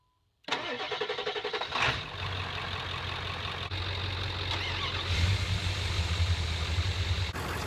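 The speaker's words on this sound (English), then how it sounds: "Now we just start up the live car." A car engine, started during a jump start from another vehicle, cranks briefly and catches, then settles into a steady medium-pitched idle that holds loud and close with a slight rise in revs near the end.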